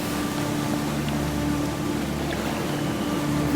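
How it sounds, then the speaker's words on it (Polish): Continuous roar of waves and surging water in an animated artwork, as a refugee raft is swamped by the sea; a steady, dense wash with a low rumble runs unbroken throughout, with no talk. "Po chwili tratwę zatapiają fale."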